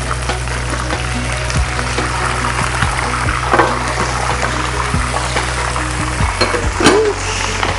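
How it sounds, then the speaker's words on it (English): Chicken pieces fry in hot oil with a constant crackling sizzle, close and loud, under occasional light clinks of a utensil stirring in the pan. "Time to fry the chicken."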